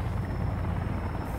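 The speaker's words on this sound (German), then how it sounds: "Heli!" Helicopter flying in the video game Sons of the Forest, a loud, steady low rotor rumble with a continuous beating throb filling the whole moment, with no speech over it.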